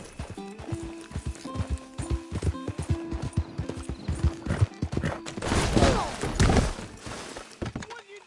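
Horse hooves clip-clop at a steady walking pace in Red Dead Redemption 2, close and distinct, followed by a louder burst of clattering and a whinny near the end.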